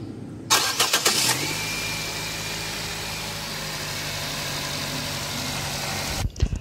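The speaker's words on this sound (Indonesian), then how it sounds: "suara mesinnya sudah saya nyalakan" A Nissan Grand Livina engine cranks with a few rapid churning bursts, catches and settles into a steady, even idle hum, close by and loud, with no talk over it.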